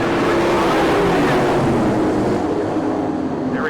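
Several 410 non-wing sprint cars rev together at the start of a race, a dense, loud, continuous engine roar that fills the whole stretch.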